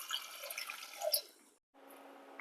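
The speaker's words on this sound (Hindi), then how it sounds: "एक गिलास पानी ऐड करते हैं उबालने के लिए।" A glass of water poured into a pressure cooker holding amla on an induction cooktop, a continuous splashing, trickling pour for about a second and a half, stopping abruptly, followed by a quieter steady hum.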